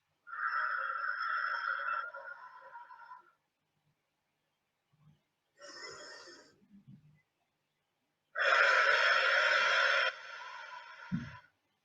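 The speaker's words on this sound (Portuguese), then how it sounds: "inspiro com a mão na barriga, pelo nariz, a 2 tempos" Slow breathing exercise with a hand on the belly: a long, steady inhale through the nose, a pause, a short soft breath, then a longer, louder exhale, all close and alone without talk.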